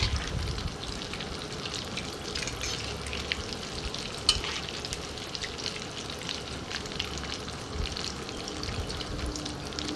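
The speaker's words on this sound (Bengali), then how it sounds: "একটু বেশি তেলেই ভাজবেন দুদিকটা ভালো করে ভাজা ভেজে নেবেন একটু লাল লাল করে ভাজবেন" Cheese potato balls fry in a generous amount of hot oil, giving a steady, close bubbling sizzle that runs unbroken throughout with a few small pops and no voices.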